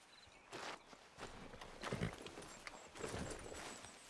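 Horse hooves walk at a steady clip-clop in Red Dead Redemption 2, the soft repeated steps close by over a quiet outdoor ambience.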